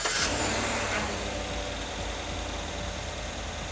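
Chevy Silverado truck engine turning over by remote start, settling into a steady mid-pitched rumble that stays close and even for several seconds, with no voices.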